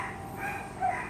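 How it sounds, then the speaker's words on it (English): A pet dog barks twice at a distance, short muffled yaps spaced about half a second apart over faint background hum. "if you hear that barking, that's my dogs"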